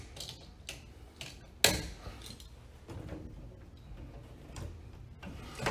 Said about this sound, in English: I'm going to have to cut these wires loose. I'll go ahead and cut it all loose.